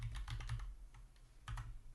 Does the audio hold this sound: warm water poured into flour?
no